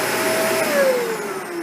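A Shark APEX Zero M cordless vacuum cleaner runs close by, giving a steady loud whirring drone with a whine that slowly drops in pitch, and no one talking.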